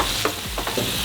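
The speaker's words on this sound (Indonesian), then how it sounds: "Sudah selesai adonannya, kita goreng semua" Cireng, small tapioca snacks, frying in hot oil, with a steady close sizzle and a few brief stirring knocks over about a second.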